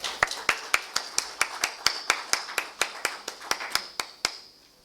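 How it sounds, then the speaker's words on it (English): Measured, evenly spaced handclaps ring out at a conference session on battery energy storage systems, about twenty crisp claps in a steady rhythm that stop abruptly, a small audience rather than a roaring crowd. "Can we have a round of applause"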